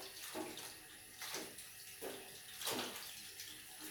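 Tap water running into a sink while makeup is washed off, a steady close splashing with four rhythmic surges as hands scoop and splash water to the face.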